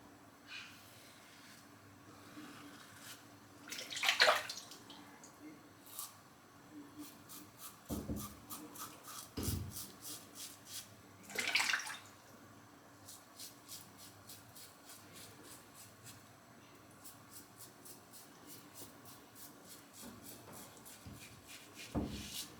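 A Karve Christopher Bradley safety razor with the B plate scrapes across lathered stubble in close, quiet strokes, with brief louder rasping bursts separated by softer rubbing and pauses.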